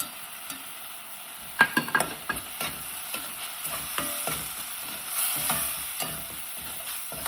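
Tomatoes with added spices cooking in a pan, a steady low sizzle under repeated close scrapes of a stirring spoon, no voices.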